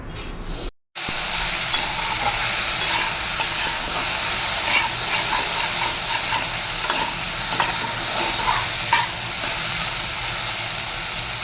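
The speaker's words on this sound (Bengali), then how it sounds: "বসিয়ে দিয়েছি ভালো করে ভাজা হয়ে যায়" Okra (bhindi) fries in a pan with a loud, dense, continuous sizzle and hiss that begins after a brief silent gap and holds steady throughout; no one speaks.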